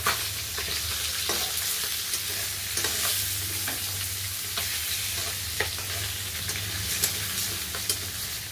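Live river fish fries in hot oil, a close, steady sizzle and spatter with occasional soft pops and stirring knocks, a low hum underneath.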